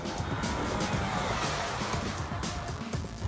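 A Pontiac GT car rushes past outdoors in a steady, noisy roar with heavy wind-like hiss and no voices.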